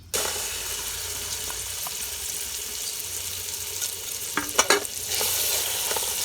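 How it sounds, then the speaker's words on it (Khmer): Pounded spice paste frying in hot fat and oil, a steady bright sizzle throughout with a few clinks and stirring scrapes near the end. "យើងកកគ្រឿងយើងជាមួយនឹងខ្លាញ់ហ្នឹងឲ្យវារាងឈ្ងុយបន្តិច"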